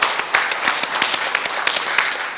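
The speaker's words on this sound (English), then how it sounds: "Big round of applause for all of you." A crowd claps steadily at an awards ceremony, a dense burst of applause with sharp individual claps standing out throughout.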